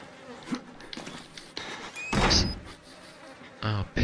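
A heavy door thuds shut in the survival horror game Outlast, a short broadband slam rising out of tense, hissing ambience, with another brief knock moments later.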